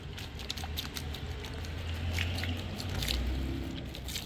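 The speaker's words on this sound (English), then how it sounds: "Pour your Totally Awesome in your bucket." Totally Awesome degreaser pours steadily into a bucket, a continuous close splashing gurgle with light dripping patter and no talking.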